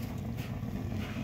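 Gamera rocket heater burning wood, a low, steady roaring rush from the combustion, fairly close and unbroken, with some wind-like breathiness on top.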